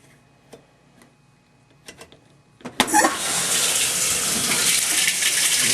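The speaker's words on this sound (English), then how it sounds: "Water's going in where it should." A Whirlpool washing machine starts with a few clicks and knocks, then water suddenly rushes in and keeps pouring steadily as the tub fills.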